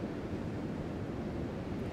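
Ocean waves washing in a steady, broad roar of surf, with wind-like noise, close and even in level, no voices.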